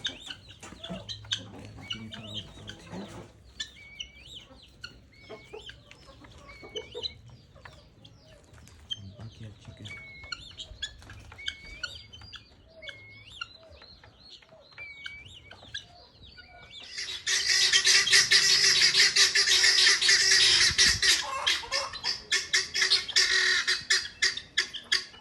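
Guinea fowl calling outdoors, repeated squawking, clucking cries at a fairly steady rhythm alongside other farmyard birds, with a sudden loud burst of harsh, noisy squawking in the final stretch.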